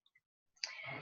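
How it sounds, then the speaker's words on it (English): Book page being turned: a couple of tiny clicks, then a short soft papery swish and rustle, faint and close, with no voices. "Another page turn."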